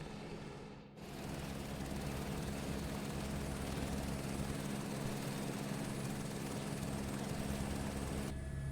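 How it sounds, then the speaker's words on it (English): A helicopter in Microsoft Flight Simulator 2024, a steady droning rotor and engine hum that holds constant and fills the scene after a brief dip at the start, with no talk over it. "All right, we're back in the helicopter."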